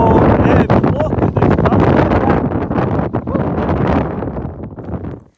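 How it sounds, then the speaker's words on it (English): Strong wind howls across an open fell in the northern central Lake District, roaring and buffeting the microphone loudly and almost continuously, then easing slightly at the very end. "the wind is absolutely howling"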